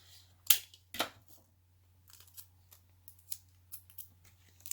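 Tape is pulled and torn off a roll to tape down a collagraph print, giving two sharp rips followed by softer crinkling and small sticky pulls in a quiet room.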